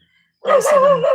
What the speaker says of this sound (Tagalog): Yun ang aso nila.